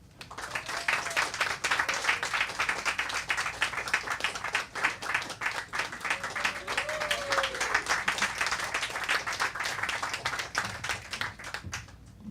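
Sustained audience applause at a Politics and Prose bookstore event welcoming Kem and Michele Norris, a dense, steady patter of many hands clapping for about twelve seconds before tapering off at the end.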